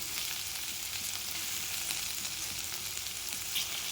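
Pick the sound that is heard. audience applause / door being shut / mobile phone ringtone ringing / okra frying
okra frying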